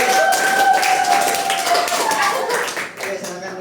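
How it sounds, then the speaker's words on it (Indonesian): An audience claps for a team in a mathematics classroom session, a dense burst of applause under a speaking voice that tapers off near the end. "tepuk tangan untuk Agen dan Joy."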